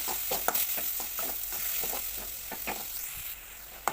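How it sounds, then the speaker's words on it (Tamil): Tomatoes sauté with salt in hot oil, giving a steady close sizzle broken by regular scraping stirs from a spoon, several strokes spaced about a quarter second apart. "இது நல்லா குழஞ்சி வர அளவுக்கு நம்ம வதக்கிக்கலாம்."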